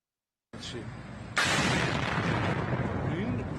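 Night explosions over military facilities in Iran, near a military plant in Isfahan: a faint low rumble breaks into a sudden loud, sustained roaring blast that fills the rest of the recording.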